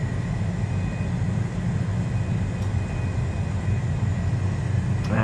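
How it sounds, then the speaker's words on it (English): An Airbus A320 in a flight simulator game rolls into its takeoff on runway 28, with a steady, loud engine roar and rumble holding constant throughout, no voices over it. "I'm gonna do a rolling start, rolling takeoff"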